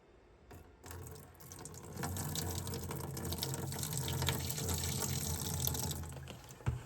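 Six percent vinegar poured directly onto a battery-damaged Mac IIfx circuit board, a steady splashing, running liquid sound that swells after a second and continues close and even until the end.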